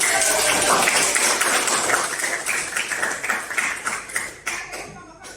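Classroom of students applauding as a group comes forward to present, a dense burst of clapping that gradually thins and tapers off, fairly close and loud.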